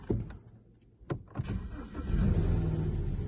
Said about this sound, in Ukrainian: ось ми завели автомобіль